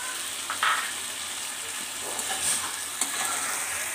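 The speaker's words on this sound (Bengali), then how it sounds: "মশলাগুলো এবার আমি কষাতে দিব।" Spices sautéed with tomato puree for a fenugreek-and-potato dish sizzle quietly in a pan, with a few soft stirring scrapes close by and no talking.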